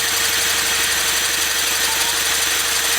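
A wind generator built from a treadmill motor spins at high speed, giving a loud, steady mechanical whir and hum with a fast rhythmic vibration throughout.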